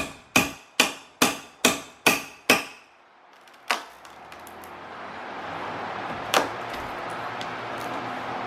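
Seven sharp, evenly spaced chisel or hammer strikes ring out on a wooden pillar while it is notched to an inch and three-quarter depth, followed by a lone louder knock and a steady background hum with one more thud.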